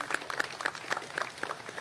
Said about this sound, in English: Give him a round of applause and his team.